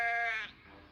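A single sheep bleats once, a short, clear, nasal call close by that fades quickly into quiet.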